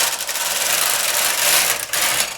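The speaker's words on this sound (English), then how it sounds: "I'm going to go across slowly, and my machine will pick out needles for the pattern." A knitting machine carriage slides slowly across the needle bed as it selects needles for a tuck mosaic pattern, giving a close, continuous rasping rub with small clicks and no voices.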